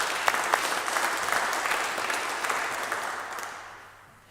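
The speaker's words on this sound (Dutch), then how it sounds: "Ja, doe dat even applaus." In a Dutch church service marking the installation and farewell of office bearers, the congregation gives a short round of applause, an even wash of clapping that fades out over about four seconds.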